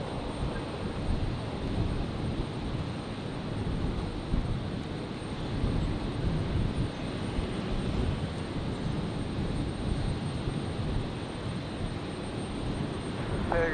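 An aircraft roars steadily on the runway at Brisbane Airport during a stormy night, a broad continuous engine rumble that stays loud and even throughout, with wind and weather noise mixed in.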